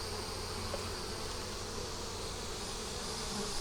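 Honeybees with their queen drone steadily in a hive, a dense, even, continuous buzz at low level with no other sounds.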